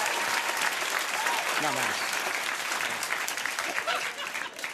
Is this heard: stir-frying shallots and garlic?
no